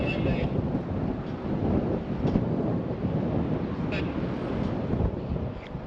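Strong wind buffets a new microphone at a roadside stop beside silo art in South Australia, a steady loud rumbling roar throughout with brief gusty bursts, no voices heard.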